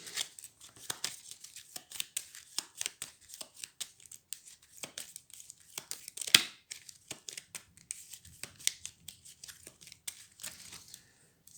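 Cards being drawn and handled during a solo game of the Star Realms Frontières card game, with a series of close, crisp paper snaps and slides in quick irregular succession.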